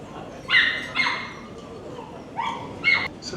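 Young puppies at a dog psychology and behaviour workshop give a few short yips and whimpering barks in separate bursts, fairly close, over a murmuring room.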